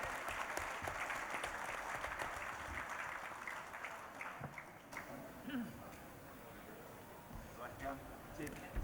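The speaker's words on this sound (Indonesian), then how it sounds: "Kita berikan aplaus sama-sama kepada Pak Ketum," Audience applauding the general chairman of the PSMTI at a plenary session in a hall, a faint spread of clapping that thins into scattered claps, with voices mixed in.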